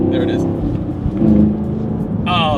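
A 2022 Chevrolet Camaro SS V8 engine revving through a gear shift, a steady low exhaust drone that swells as the throttle climbs, with talking heard over the engine.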